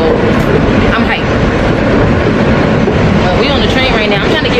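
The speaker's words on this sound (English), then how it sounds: "We on the train right now." Inside a moving New York train, a loud, steady rumble of wheels and carriage fills the whole stretch, with faint voices under the din.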